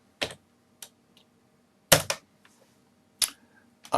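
A computer keyboard is tapped in short, separate bursts, a few crisp clicks at a time with quiet gaps between, close and clear with no talking.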